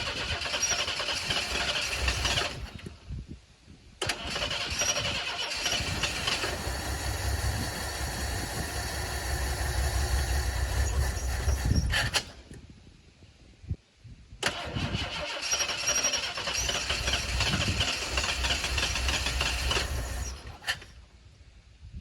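Ford Bullnose truck engine cranking and catching, roaring loud and steady for several seconds, cutting out, then starting and running again.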